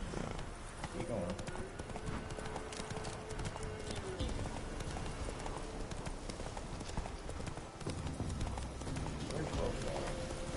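Horse hooves galloping in the video game The Witcher Wild Hunt, a steady run of clip-clop beats under a dense layer of game sound and noise.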